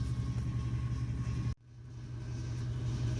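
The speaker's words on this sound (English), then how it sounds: "Okay, so the lathe is spinning." A lathe spins, making a steady low motor hum and rumble that cuts out abruptly partway through and then gradually builds back up.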